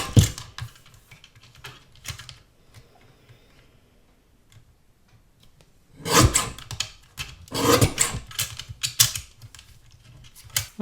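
A small guillotine paper trimmer cuts cardstock: scattered light ticks and taps, then a few short bursts of dry, rasping blade strokes, close and fairly quiet, with no talking.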